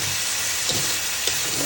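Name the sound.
green chillies frying in a pan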